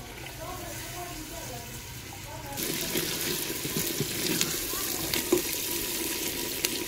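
Garlic, ginger, green chilies and chopped tomatoes fry in a pan for aloo gobi salan, a soft hiss that swells into a louder, crackling sizzle as the tomatoes go in, with scattered stirring clicks.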